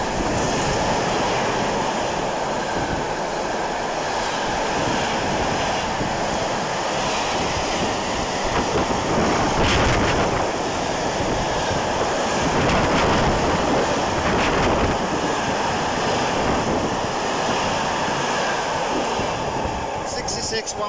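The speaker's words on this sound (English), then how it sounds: "that was Freightliner 66137 from Durham" Freightliner Class 66 locomotive 66137 hauling a freight train from Moss End to Tyne Dock through Darlington station, a steady, loud rumble and clatter of wagons lasting throughout, with wind noise and no clear talk.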